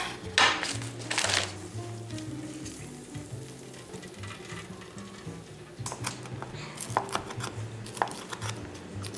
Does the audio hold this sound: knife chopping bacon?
yes